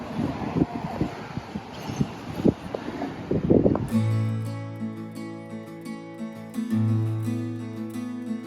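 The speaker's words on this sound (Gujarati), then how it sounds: "બારે જોરદાર પવન છે, જોરદાર." Strong wind during a snowstorm in Canada, buffeting the microphone with rough, gusty rumbles for several seconds before giving way to sustained tonal sounds.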